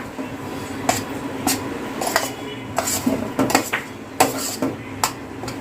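A metal spoon stirs cooked rice mixed with fried rice masala in a pan for veg fried rice, giving repeated scraping clinks at an irregular rhythm, close and clear, with no talking.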